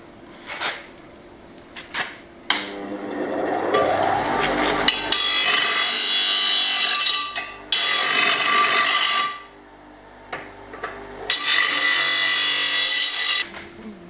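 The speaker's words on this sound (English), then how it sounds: "on the old bench grinder." An old bench grinder cleaning up the ends of metal pieces, with several loud bursts of harsh grinding separated by short pauses and quieter clunks of handling between passes.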